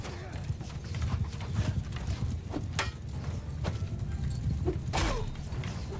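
Horse hooves galloping in the Mount & Blade II Bannerlord medieval battle game, a steady rolling clip-clop under a dense battlefield din with sharp clashing hits.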